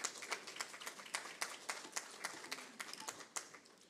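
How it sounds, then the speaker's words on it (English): Conference audience gives a round of applause for Mr. Maxwell at an artificial intelligence event, scattered hand claps steady but moderately faint across the room, with no talk over it. "please give Mr. Maxwell a round of applause."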